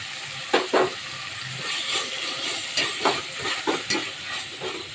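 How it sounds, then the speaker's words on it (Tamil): Tomatoes sauté in a pan with salt and mint, sizzling and hissing steadily up close, with several sharp scraping stirs breaking through the frying. "இப்போ இது ஒரு 2 நிமிஷம் தக்காளி நல்லா வதங்கட்டும்."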